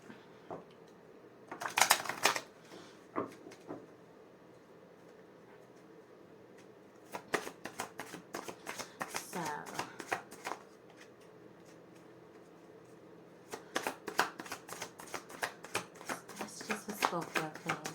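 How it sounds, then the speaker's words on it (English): Oracle cards being shuffled in bursts of rapid papery riffling and flicking, close and moderately loud, separated by quieter pauses. "We are just going to pull another oracle card just to get a bit more of a feel for your energy"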